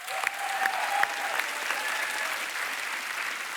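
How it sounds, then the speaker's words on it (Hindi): Studio audience at a televised comedy talk show bursts into loud, continuous applause that holds steady throughout, with a few short whistle-like squeaks near the start. "लेकिन एक बार तो जोरदार तालियां यार"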